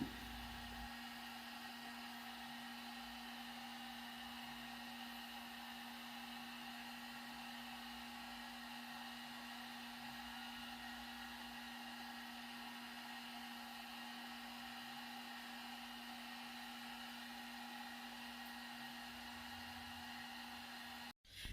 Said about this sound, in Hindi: ड्रायर से मुझे बाल सुखाने पड़े